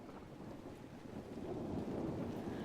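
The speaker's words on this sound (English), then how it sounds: "I mean, it's raining, so that's, you know, always a damper." Steady rain and a low rumbling roll of thunder fill a rainy outdoor scene in the video game Dragon Age: Inquisition, a constant wash of noise that swells slightly toward the end.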